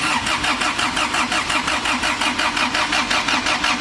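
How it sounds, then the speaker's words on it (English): A turbocharged four-door Honda Civic engine cranks steadily with the distributor unplugged, a fast, even rhythmic churn of the starter turning the engine over without catching, loud and close, with no voices. "Cranking it until the oil light goes out."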